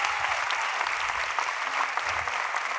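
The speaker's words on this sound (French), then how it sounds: "encore un applaudissement du tonnerre à nos créateurs" An audience at a fashion show applauds with sustained, dense clapping, fairly close and loud, steady from start to finish.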